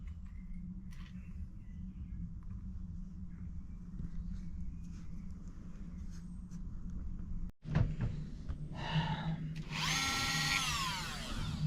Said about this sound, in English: Bigger grinder would have done this so much quicker.